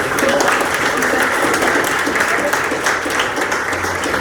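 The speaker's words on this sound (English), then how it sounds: "One more round of applause for them." Sustained crowd applause for middle school students at a school morning assembly, a dense, steady wash of many hands clapping throughout with faint voices mixed in.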